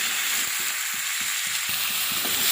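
Ridge gourd and potato with salt and turmeric fry in a pan while being stirred, a steady sizzling hiss with a string of rhythmic low scrapes and knocks from the spoon.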